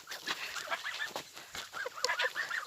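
Domestic geese in a village honk and cackle continuously in a noisy flock, overlapping calls rising and falling, fairly close with no talking.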